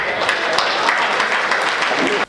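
At a Hindi comedy show, the audience claps in a continuous, fairly loud burst mixed with crowd voices, then cuts off abruptly.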